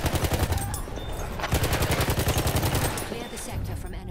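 Rapid automatic assault rifle fire from Battlefield 1, sustained bursts of evenly spaced shots loud and close, broken by a brief pause before resuming, with a voice talking over it.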